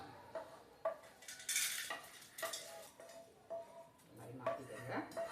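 Fried food lifted out of a hot kadai and moved onto a plate, with scattered metal scrapes and clinks of a spoon against the pan over a faint sizzle, fairly quiet and close, with a voice speaking softly in the background.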